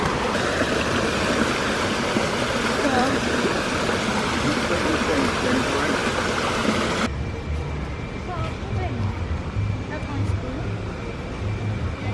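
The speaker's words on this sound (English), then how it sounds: "There's another river here." Steady rushing water of a flowing river fills the recording at Disney's Animal Kingdom, dense and continuous, with a quieter stretch of murmuring flow toward the end.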